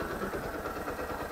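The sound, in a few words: motorcycle engine idling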